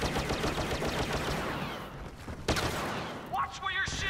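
Gunfire in the Star Wars Battlefront video game, with a dense burst of rapid blaster shots that fades after about two seconds, followed by a sharp single report and another short volley, loud and close.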